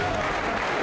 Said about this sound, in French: Elle est arrivée sous les applaudissements du groupe des frondeurs.